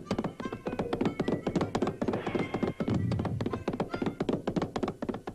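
A cartoon horse in a Deputy Dawg episode neighs and whinnies amid a busy run of thumps and hoof-like clip-clop knocks, loud and close, with a voice also present.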